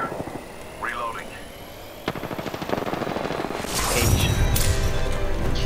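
Automatic gunfire in Apex Legends, rapid rattling bursts building into dense, loud fire with heavy impacts, while players talk over the action.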